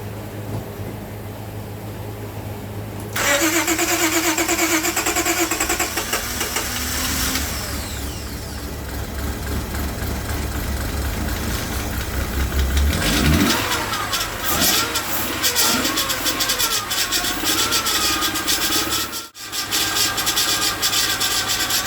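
A car engine with a crank-no-start fault cranks and then catches, rising into a steady running roar with a brief revving surge near the end.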